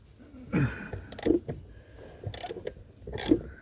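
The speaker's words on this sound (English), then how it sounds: "So I got the extension on the wrench because it's a freaking messed up spot." Ratchet wrench with an extension turning bolts on the brake master cylinder of a 2003 Ford Explorer, several short bursts of clicking and metallic scraping spaced a second or so apart, close up with no talking.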